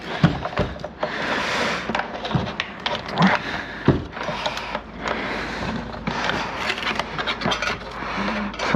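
Dirt crunching and rattling between the plastic parts of a Hoover Celebrity QS canister vacuum under repair, heard as a dense run of close, irregular scraping and clicking through the whole stretch.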